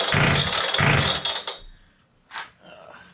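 A Hilti DSH700 cut-off saw, freshly fitted with a new carburetor, runs on full choke with a loud, rough, close engine roar that cuts out abruptly after about a second and a half, followed by a short mechanical rasp and then quiet.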